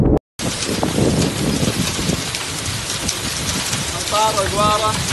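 Steady heavy rain pours down in the countryside southwest of Ar Rass, Saudi Arabia, a dense continuous hiss across the whole span with a short gap near the start; a voice speaks briefly under the downpour.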